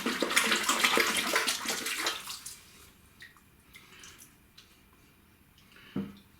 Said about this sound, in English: we just dunk the puck there into the water just to wash off the excess